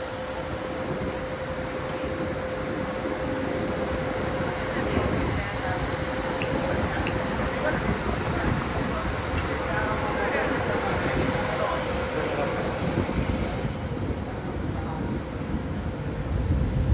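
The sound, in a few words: electric multiple unit train departing Budapest-Kelenfold station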